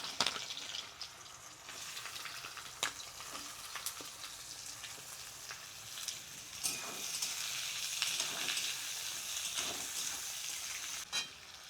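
Onions frying in mustard oil with dried red chillies, bay leaves and garam masala, a soft steady sizzle punctuated by occasional clacks of a stirring spoon against the pan, no voices.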